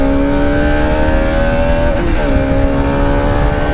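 TVS Apache RR 310 motorcycle engine revving loudly and steadily up close, a sustained harmonic drone that dips and rises again near the middle, with no talking.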